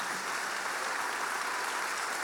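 A church congregation applauds during a sermon, producing a continuous, even burst of clapping at moderate, somewhat distant level.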